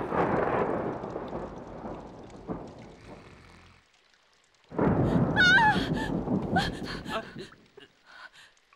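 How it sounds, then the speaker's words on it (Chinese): Thunder in a martial-arts film scene: a loud, heavy rumble fades into near silence, then a second broadband crash rolls in with a few faint high tones over it. "我怕打雷"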